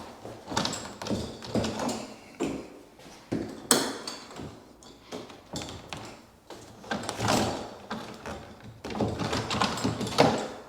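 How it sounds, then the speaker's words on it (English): A pocket door at a master closet in a house slides back and forth on its track, with repeated rolling scrapes, knocks and bumps over several seconds, close and moderately loud, with no talking. "You have a pocket door right here, which I'm not sure if it works or not"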